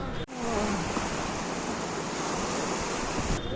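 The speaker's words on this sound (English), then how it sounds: "First impressions are it's hilly and the river is insane." A fast, wild river in the hills of Kargil rushes nearby as a continuous broadband roar of churning water, steady and fairly loud, briefly interrupted by a short handling bump at the start.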